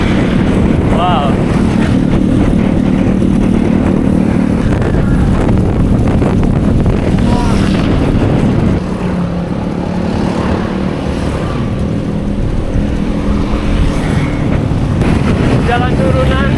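Strong wind buffets the microphone while cycling downhill on the road near Cikalong Wetan between Bandung and Jakarta. A steady, loud roar rumbles through the whole ride, with a voice talking under it.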